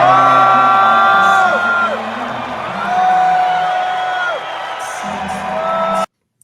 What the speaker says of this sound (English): it does look like lots of people in there are booing